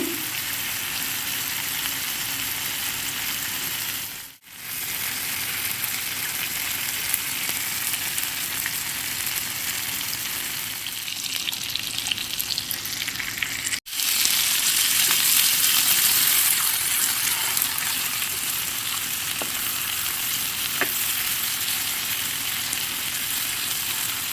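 Chicken tikka pieces fry in a pan over low flame, a loud, continuous close sizzle that holds steady throughout, with two brief dips and a slightly stronger hiss after the second.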